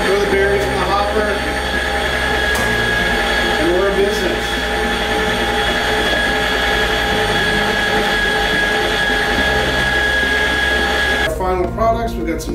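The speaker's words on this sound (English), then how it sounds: "Turn on the machine. Throw the berries in the hopper." An IMARCA tomato strainer machine runs steadily while processing berries fed into its hopper, a loud continuous motor hum with a constant whine, close and unbroken until it cuts off near the end as voices briefly come in.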